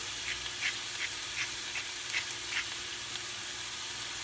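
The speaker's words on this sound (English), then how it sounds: "let them cook for about 2 minutes per side" Garlic and rosemary lollipop lamb chops sear in a pan, a dense even sizzle with a run of soft rhythmic pops or taps at close range.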